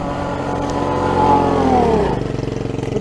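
A trail-riding vehicle engine running outdoors, a loud steady drone that rises in pitch, then drops and settles into a rough, pulsing idle near the end.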